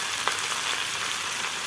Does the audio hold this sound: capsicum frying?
yes